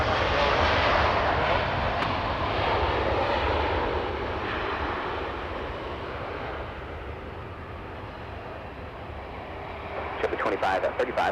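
A jet airliner takes off from runway 24 left at Los Angeles International Airport, a broad, loud engine roar that gradually fades as it recedes, with a faint voice over the radio.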